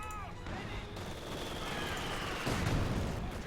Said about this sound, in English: Panzer Grenadiers will be forced to pull back against all these machine guns.